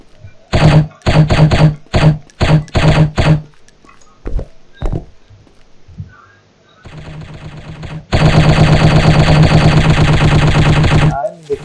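Bursts of rapid gunfire shooting enemies in the video game Striker, several short volleys at first, then scattered single shots, and finally a long, loud, sustained stream of fire.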